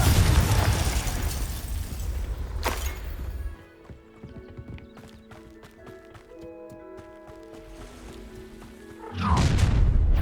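A Confringo fire spell explodes in Hogwarts Legacy: a loud blast opens over a sharp burst, then quieter clicks and tones follow, and a second heavy boom hits near the end.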